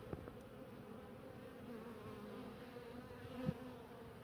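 Honeybees hum faintly and continuously around a stacked beehive fitted with an entrance reducer, a soft steady drone broken by a couple of brief knocks, with no one talking.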